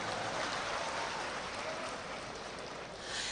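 An audience at a public address applauds with steady, even clapping, faint and distant, which fills the space as a continuous patter like rain and lifts slightly at the end.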